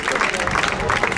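An arena audience at a Camarguaise bull race applauds prize winners, steady dense clapping with crowd voices mixed in, fairly loud and close.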